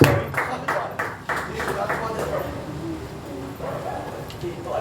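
A church congregation claps for Jesus at an evangelical service, a loud burst of rhythmic clapping that fades into scattered claps as voices carry on beneath.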